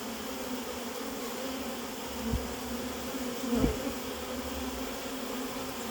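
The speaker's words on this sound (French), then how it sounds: "je suis content de mettre les abeilles dans ta ruche" A steady, dense buzz of a honeybee swarm being put into a hive, many bees droning together, continuous and close, with a couple of brief louder thumps partway through.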